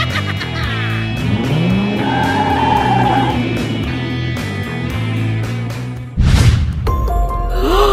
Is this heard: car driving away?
yes